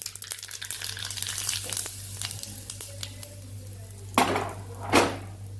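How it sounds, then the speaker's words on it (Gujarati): A cumin and sesame seed tempering in hot oil sizzles in two sharp, loud bursts near the end, after a stretch of light utensil clinks over a low hum. "તલ અને જીરું ઉમેરી અને વઘાર કરશું"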